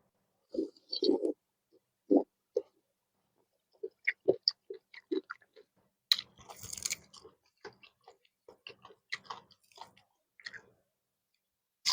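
Crisp, crunchy chewing up close: bursts of bites and crackly crunches in an uneven rhythm, separated by short pauses of near silence.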